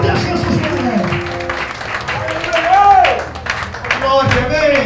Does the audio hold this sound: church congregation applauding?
yes